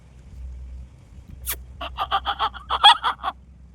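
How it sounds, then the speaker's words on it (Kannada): Chickens on a roadside farm plot in NR Pura, with one sharp squawk followed by a rapid run of about ten loud clucks and honking calls, fairly close against a quiet low rumble of background noise. "ಒಳ್ಳೊಳ್ಳೆ ಕೋಳಿಗಳಿದ್ದಾವೆ. ಚುಕ್ಕೆ ಕೋಳಿ, ಎಲ್ಲ ಥರದ ಕೋಳಿಗಳನ್ನು ನೋಡ್ಬೋದು."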